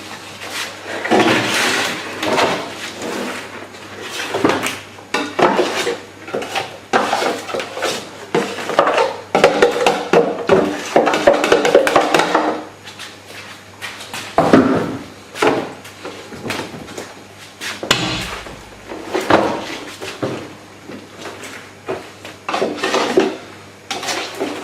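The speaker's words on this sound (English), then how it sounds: "It works pretty good for scraping out these containers." A spatula scrapes worm castings out of plastic containers in a series of close, irregular scrapes and knocks of plastic, with pauses between bursts.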